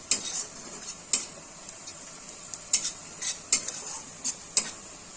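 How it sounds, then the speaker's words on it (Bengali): Onions frying gently on a low flame in a pan, with a soft steady sizzle underneath and a handful of sharp spoon clinks against the pan at irregular intervals, close and fairly quiet, no talking. "পেঁয়াজগুলো একদম লো ফ্লেমে ভেজে নিচ্ছি"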